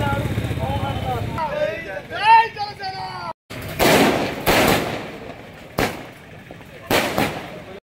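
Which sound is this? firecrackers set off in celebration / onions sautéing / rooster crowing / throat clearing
firecrackers set off in celebration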